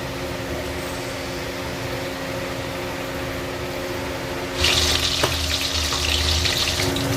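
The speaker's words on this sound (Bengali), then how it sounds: "এবার মাছের পিসগুলো ভেজে নেওয়ার জন্য কড়াইতে দিয়ে দিচ্ছি" Hilsa fish pieces drop into hot oil in a wok and break into a loud, steady sizzle after several seconds of quiet background hum, with a sharp crackle just after the fish goes in.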